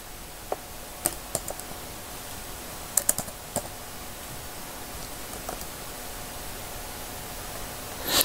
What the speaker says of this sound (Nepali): गुगल मिरर टाइप गर्ने है